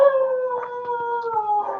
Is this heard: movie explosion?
no